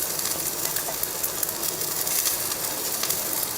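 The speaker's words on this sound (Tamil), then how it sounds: "தேங்காய் போட்டு ஒரு 2 நிமிஷத்துக்கு வறுத்தா போதும்." Grated coconut sautéed in a pan while making chutney for idli and dosa, giving a steady, soft crackling sizzle with faint scraping, continuous and even throughout with no talk.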